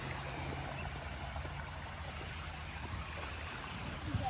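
Rainwater streams down a road after heavy rain, a steady rushing, gurgling flow like a small river, close and continuous with no talk.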